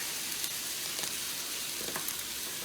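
Chicken boiling in a pot on a stovetop for Southern cornbread dressing, giving a steady, close bubbling and sizzling hiss with faint scattered pops and no voices.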